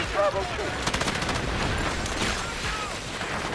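Rapid bursts of gunfire in the video game Delta Force crackle in quick succession, loud and close, with a voice talking briefly near the start.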